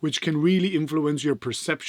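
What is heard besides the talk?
No everyday noise stands out behind the speech.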